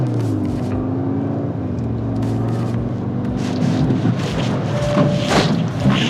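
Car with Continental UltraContact UX7 tires driving on a slick, ice-like test surface: a steady, loud engine drone with shifting tonal whine and tire and wind rush, rising slightly toward the end, with no voices.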